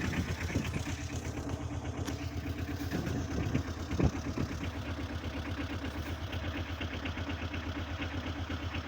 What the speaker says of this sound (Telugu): సింగిల్ స్టార్ట్ అండి. ఇంజిన్ కండిషన్ చూడండి.